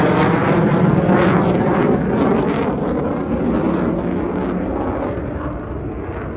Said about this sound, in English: The aircraft is set up for a landing.